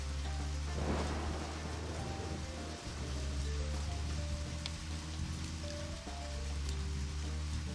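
Heavy rain with rolling thunder in the video game Deadly Premonition: a dense, loud downpour hiss with deep rumbles building through the middle, continuous for several seconds with no voices.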